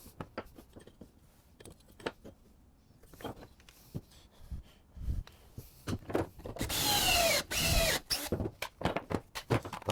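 An electric drill bores pocket holes into the wooden legs of a squirrel bench, close up: scattered knocks and handling clatter lead into a loud, sustained whirring burst of the motor near the end.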